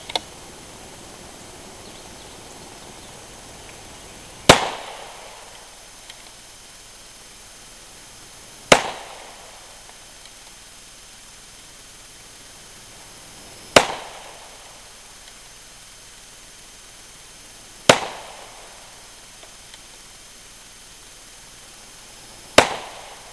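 At a 600-yard benchrest rifle match, five sharp, loud shots ring out one at a time, several seconds apart, each cracking sharply and trailing off in a short echo.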